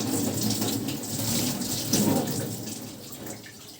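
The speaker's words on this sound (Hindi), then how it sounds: "पानी डाल दो उसके अंदर" Water poured into a cooking pot of garlic, a steady running splash with small surges, fairly close and continuous, easing slightly toward the end.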